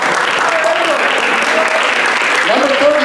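A crowd at a high school baseball ring ceremony applauds the team. The clapping is a steady wash under continuous talk from the announcer, and it stays at an even level the whole time.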